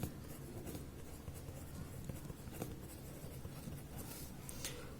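Pen or pencil scratching steadily across paper while working a class 10 math problem, a continuous close, fairly faint scribbling texture with a few sharper strokes and no talking.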